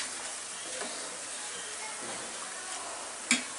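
Onions fry in oil for Bangladeshi beresta, giving a soft continuous sizzle and hiss at low volume, with a brief clink near the end.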